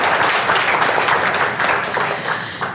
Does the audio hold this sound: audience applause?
yes